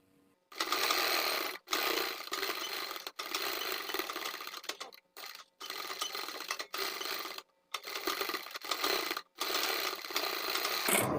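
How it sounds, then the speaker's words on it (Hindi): Sewing machine stitching a sleeveless strap blouse at the neckline, running in loud close bursts of rapid mechanical stitching separated by short silent pauses. "तो मैंने सिलाई लगा ली है।"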